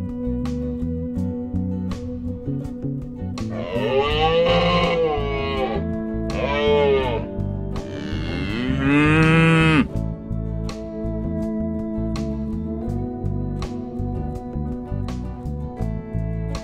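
Cow mooing in an animal sound sequence, a few drawn-out calls in the middle of the stretch over steady background music.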